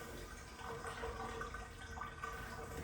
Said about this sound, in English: I just roll the mat up and start squeezing all the dirty soapy water